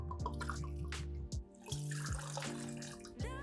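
Two ounces of spirit poured for a cocktail, a thin gurgling trickle of liquid into a glass with small splashes and drips, close and quiet, without talk.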